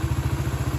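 A Yamaha Vega ZR motorcycle engine idles roughly up close, a loud, fast, regular chugging pulse with a thin high whine riding over it.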